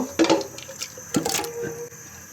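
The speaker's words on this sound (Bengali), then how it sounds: "এই যে পানি দিয়ে দিলাম" Water poured into a pan of marinated beef on the stove for Bangladeshi beef biryani, heard as two short, close splashing bursts with a brief trickle between them.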